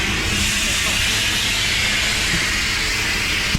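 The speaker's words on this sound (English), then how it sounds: "started the vacuum" Vacuum cleaner running at an automatic car wash, a loud continuous broadband hiss and roar that holds steady throughout, with no talking.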